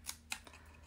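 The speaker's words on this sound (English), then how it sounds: "It's like one or two cuts with the scissors." Scissors snipping stamped paper at a craft table: two or three quick, faint, close cuts within a second, with no talking.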